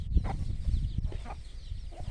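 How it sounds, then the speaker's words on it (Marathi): A hen clucks a few times in short, soft bursts, close by, with faint chirping and quiet farmyard rustle between. "इथे एक कोंबडी आहे, त्याच्यासोबत पण 10-12 पिल्ले आहेत."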